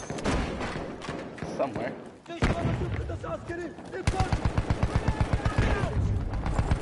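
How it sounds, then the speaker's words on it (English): Battlefield 1 gameplay with mortar and gunfire: heavy thumping blasts and crackling shots throughout, turning into a fast rhythmic burst of loud impacts in the second half, with a voice speaking over the combat. "There's a guy mortaring up here."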